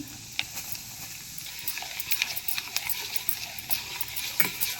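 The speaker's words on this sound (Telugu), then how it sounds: "ఒక 3/4 స్పూను మెంతులు కొంచెం గోల్డెన్ బ్రౌన్లోకి వేగాలి" Fenugreek, mustard seeds and cumin fry in hot oil for a tomato pickle, a steady close sizzle with scattered sharp pops and crackles as the seeds spatter in the pan.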